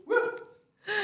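A person's voice imitates a dog barking with two short, gruff, close vocal bursts separated by a brief silence.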